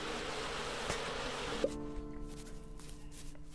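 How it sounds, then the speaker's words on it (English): Bees buzz in the fantasy video game Windscape, a continuous insect drone under game sounds, with the tone shifting partway through as a higher steady hum takes over. "No wonder the bees are attacking me."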